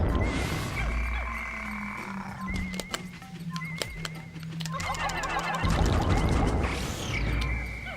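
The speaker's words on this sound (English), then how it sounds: "Get out of here, you stupid glitch frog." Croaking calls of a Wollywog frog enemy in Pikmin 2, over a steady game soundtrack with clicks and small tones, with a louder swelling cry near the start and again at the end.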